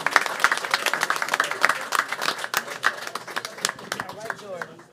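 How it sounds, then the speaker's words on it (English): An audience at a board meeting claps for young people being congratulated, sharp individual claps standing out from a lively, uneven crowd, with voices mixed in throughout. "Can we give a round of applause to our young people?"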